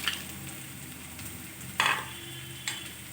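Masoor dal stirred into a simmering gravy in a pot, a soft continuous bubbling hiss with two brief scraping strokes of a spoon, close up and fairly quiet, no talking.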